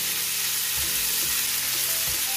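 Liver frying with onion in a pan, a dense continuous sizzle close up with occasional soft stirring scrapes, no voices.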